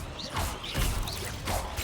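Depulso spell cast in the Hogwarts Legacy video game during a combat flurry: repeated whooshing, crashing magical bursts with a rising swish, loud and close, several impacts in under two seconds.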